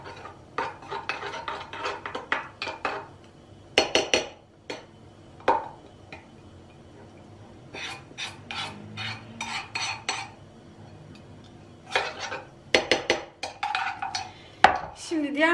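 A spoon clatters and scrapes against a bowl while a dough mixture is stirred, in bursts of quick knocking strokes separated by short pauses, close and fairly quiet.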